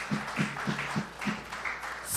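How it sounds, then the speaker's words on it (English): Audience applause at a town hall meeting in Tunapuna, a moderate burst of clapping from a crowd with rhythmic emphasized claps, steady and fairly close over about two seconds. "Yes, round of applause."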